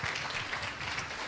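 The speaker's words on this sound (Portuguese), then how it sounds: "Uma salva de palmas para Jesus" A church congregation at a family conference gives a round of applause, a soft, steady patter of many hands heard from a distance.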